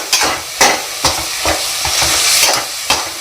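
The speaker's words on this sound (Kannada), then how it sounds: "ರುಬ್ಕೊಂಡಿರ್ತೀವಲ್ಲ ಆ ಮಸಾಲೆನ ಇದರಲ್ಲಿ ಸೇರಿಸಿ ಚೆನ್ನಾಗಿ ಎಣ್ಣೆಯಲ್ಲೇ ಫ್ರೈ ಆಗಲಿ" Ground masala paste fries in oil for tomato bath while a spoon stirs it, giving a steady sizzle broken by several sharp scraping strokes against the pan, close and loud, with no talking.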